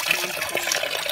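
Natural spring water near falls in Culasi, Antique, flowing and splashing in a brief, close, steady rush.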